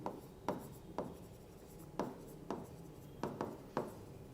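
Pen strokes writing an accounting entry for a partners' capital account during a dissolution lesson, a series of short scratchy strokes in a loose rhythm, close and fairly quiet, with no talk.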